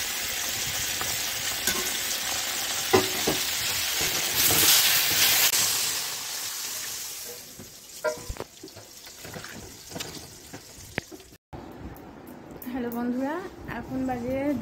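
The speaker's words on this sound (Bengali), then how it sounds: "এখানে হচ্ছে মাছ ভাজা" Fish frying in a pan in a home kitchen gives a steady, loud broadband sizzle for several seconds. It then thins out with a few clinks, and someone talks near the end.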